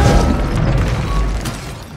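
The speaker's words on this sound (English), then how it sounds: "I remember the first time that I heard the loud groans of a whole line of trebuchets launching those 90-kilogram projectiles" Trebuchets launch projectiles in the video game Age of Empires IV, heavy low booms and creaking thuds rolling together into a loud, dense rumble that eases off slightly toward the end.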